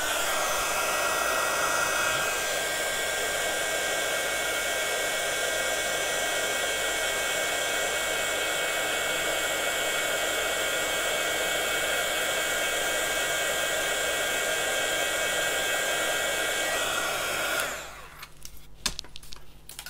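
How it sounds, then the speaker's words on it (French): A hair dryer blows steadily at close range for about seventeen seconds while drying Brushos powder colours on a scrapbooking page, then cuts off abruptly, leaving a few faint handling noises. "Et là, je vais pouvoir sécher également."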